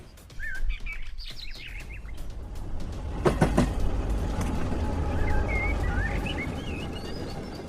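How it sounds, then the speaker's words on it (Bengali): A train pulls into Panagarh station as a sound effect in a Bengali horror audio story: a low, steady rumble with a few metallic clanks, while birds chirp and tweet over the top. "প্রায় বিকেল 5টার দিকে পানাগড় স্টেশনে এসে ট্রেন থামল।"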